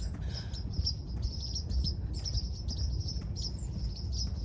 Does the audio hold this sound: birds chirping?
yes